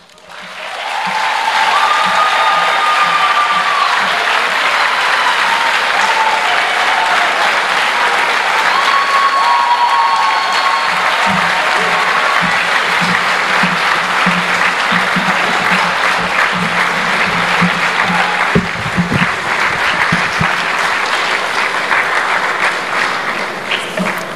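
A lecture hall audience gives loud, sustained applause after a lecture on African renewal, a dense continuous clapping that swells quickly and holds for over twenty seconds, with occasional faint voices beneath.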